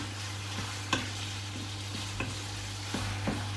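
Steady sizzling of pork stir-frying in a wok without oil, with a few sharp scraping clicks of a utensil stirring at irregular intervals.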